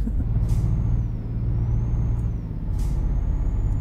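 Air brakes hiss sharply twice on a Volvo VNR 2018 semi-truck pulling doubles trailers in American Truck Simulator, the bursts loud and close over a steady rumbling engine drone.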